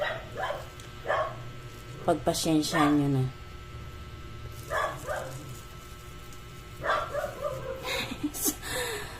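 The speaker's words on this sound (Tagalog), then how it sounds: "Ingay ng aso" A dog barks and yips in bursts, some close and loud, with whining notes between, while a person talks briefly in Filipino during outdoor cooking.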